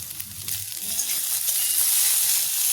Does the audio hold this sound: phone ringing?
no